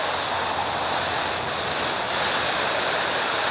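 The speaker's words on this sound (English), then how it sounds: "Rebecca's watering plants by hand because I haven't got the irrigation system in yet" Water from a hand-held hose or watering can pours steadily onto garden plants, a continuous broadband hiss and splash, close and fairly loud, with no talking.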